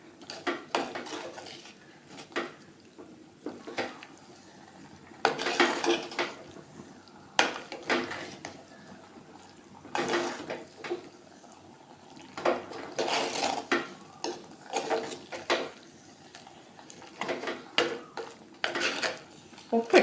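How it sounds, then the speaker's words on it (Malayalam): Tapioca curry is stirred in a pot, with repeated clanks and scrapes of a spoon against the metal sides in irregular bursts over a faint background sizzle. "നന്നായിട്ട് മിക്സ് ചെയ്ത് കൊടുക്കും"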